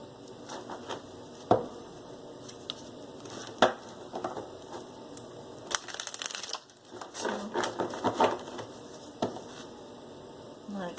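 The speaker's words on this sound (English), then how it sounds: "Let's go ahead and do 3 shuffles here." Tarot cards are shuffled by hand in a few quick bursts of crisp riffling and tapping, close and moderately loud, with a person talking between the shuffles.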